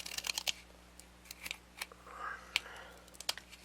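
Scissors snip through paper for DIY washi-style stickers, a few crisp close-up cuts in short bursts with pauses between, quiet and intimate, with a faint hushed voice in the background.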